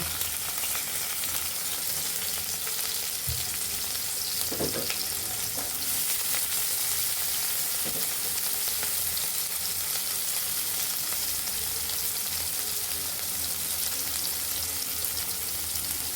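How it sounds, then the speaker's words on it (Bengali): Chopped onion and green chili frying in white oil, a continuous loud sizzle throughout with a few stirring knocks and scrapes, no voices. "আমরা সাদা তেল দিয়ে দিয়েছি এখন আমরা একে একে পেঁয়াজ কুচিটা দিয়ে দিব এবং কাঁচা লঙ্কাটিও দিয়ে দিব"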